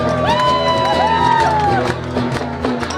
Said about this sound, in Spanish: Aplauso fuerte al amigo que está tocando